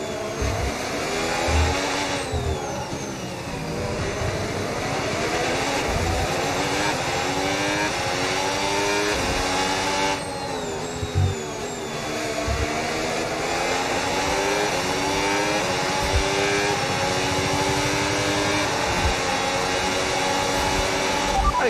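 High-revving Formula 1 car engine racing around Singapore's Marina Bay street circuit in the F1 25 video game, a continuous loud whine rising and falling through gear changes and corners, with no talk.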